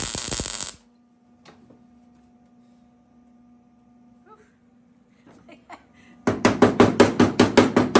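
A hole being welded shut during a garage repair: one loud crackling burst at first, then a quiet stretch with a low steady hum, ending in a rapid series of loud, regular crackling pulses.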